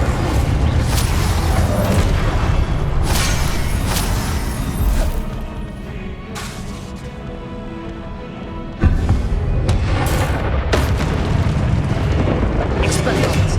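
Incendio fire spells cast repeatedly in Hogwarts Legacy, giving dense roaring, booming bursts of flame and magic that run continuously at close range amid busy game effects.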